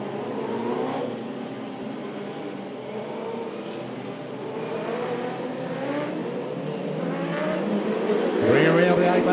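Speedway race cars starting a race at Archerfield Speedway, a dense, loud roar of several engines revving and accelerating together, building toward the end.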